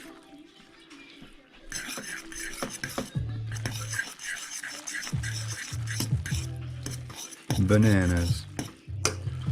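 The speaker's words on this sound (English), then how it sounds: "let's stir this sucker up." Myojo Bubuka style aburasoba instant noodles, 5th level spicy, being stirred in a bowl, giving repeated close scraping and clinking of utensil against dish in uneven strokes, with a voice talking briefly.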